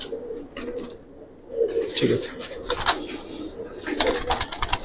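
Fancy and racing Giribaz pigeons at a loft in Islambagh, Dhaka, give low, throaty coos, a few soft calls rising between bursts of nearby chatter and a voice.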